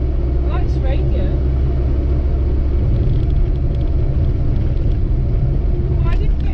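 An Austin Allegro drives along with a steady, loud engine rumble and road drone filling the cabin, continuous and close throughout.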